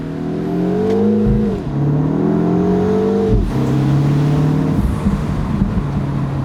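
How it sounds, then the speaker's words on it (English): A 2025 Mini Cooper JCW accelerates through the gears, its engine drone rising in pitch with each gear and dropping at the shifts, heard loud from inside the cabin. "Hopefully you guys can hear the exhaust burble a little bit when you let off the throttle."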